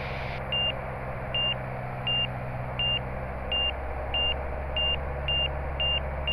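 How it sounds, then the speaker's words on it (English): A Garmin G3X angle-of-attack stall warning sounds during slow flight in a light aircraft, a regular series of short electronic beeps about twice per second over the steady drone of the engine and cabin. "And you're hearing the beeping, that's because it's already been calibrated once."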